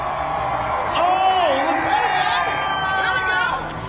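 Spectators cheer and whoop at a Red Bull Flugtag event, a broad roar of crowd noise rising and holding steady, with shouts and chatter mixed into the din.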